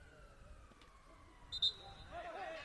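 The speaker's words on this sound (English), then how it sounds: "Yet another ambulance races past us by Starbucks." An ambulance siren passing a street-side football match in Birmingham, a faint, thin wail that gets louder and peaks near the end as the vehicle goes by, mixed with distant crowd and traffic noise.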